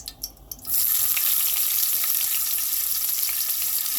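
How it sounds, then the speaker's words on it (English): Peppers and onions hit hot oil after a few clunks of the pan, bursting into a loud, dense, continuous sizzle that holds steady close up, with no voices. "the oil is on this hot in the meanwhile, so we're going to start with the peppers and onions"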